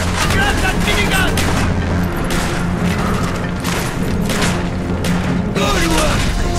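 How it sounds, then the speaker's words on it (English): A minigun firing in Call of Duty: Black Ops during the Vorkuta level, a loud continuous roar of rapid fire with booming impacts and explosions throughout, with shouted voices mixed in. "Mason! Grab that minigun!"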